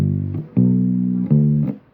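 Bass guitar plays an offbeat rhythm exercise: three sustained low notes, each starting with a clear pluck and separated by short gaps, heard alone.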